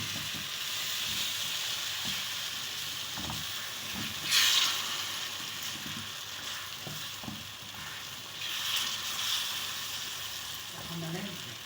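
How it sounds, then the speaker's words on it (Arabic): Cake batter with starch being stirred gently in a pot just taken off the heat, a soft continuous scraping and sloshing at close range with a couple of brief louder swishes, a faint voice briefly in the background. "واشيله بقى كده بالراحه من على النار واقلبه بالراحه"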